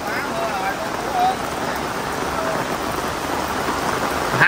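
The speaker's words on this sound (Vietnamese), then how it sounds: "Mưa tầm tã luôn nghe quý cô chú anh chị" Steady heavy rain falls at a grave site, a thick constant hiss with faint tonal traces of a voice surfacing now and then beneath the downpour.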